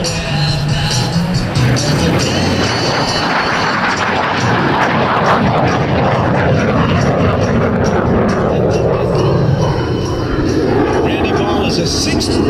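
A MiG-17F jet takes off at an air show with its afterburner lit, a loud continuous broadband roar that holds steady throughout, with a public-address announcer talking over it.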